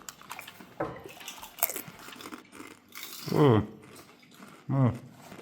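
Crunchy bites and chewing sound close to the mic, with a loud crisp crunch mid-clip and another near the end, amid faint rustling.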